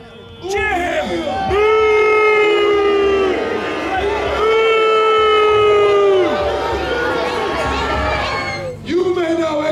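Crowd cheering at a Warwick Castle dragon slayer show, a loud massed roar of voices rising and holding for several seconds, with long shouted cries drawn out above it.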